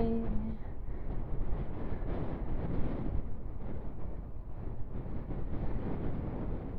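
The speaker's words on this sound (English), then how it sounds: "Oh hi, it's windy." Strong wind buffeting a microphone on a solo bike ride, a continuous low rumbling roar with gusty swells, close and steady, no speech over it.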